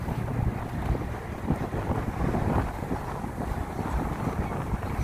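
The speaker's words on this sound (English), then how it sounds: "Right in the wind." Wind buffets the microphone outdoors beside a street as a wheelchair user crosses a boulevard, a steady loud rumbling roar that fills the whole clip with no talk.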